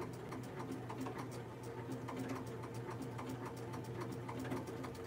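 A sewing machine stitches an orange peel appliqué quilt block with nylon top thread, giving a steady, rapid mechanical rattle that runs continuously at low volume, heard alone without speech.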